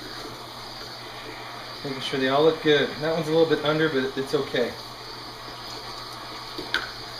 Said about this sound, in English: So I'm just putting them into a colander in the sink with cold water.